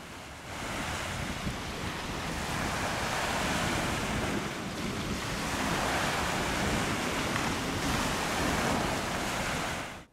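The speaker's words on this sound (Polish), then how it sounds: "kąpieli w morzu i wypoczynku przy szumie fal" Sea waves roll and break on a Baltic beach at Międzywodzie, a continuous loud wash of surf with slow swells and some wind noise across the microphone.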